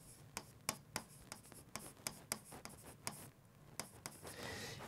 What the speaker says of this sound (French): Je vais te dessiner ici une oreille.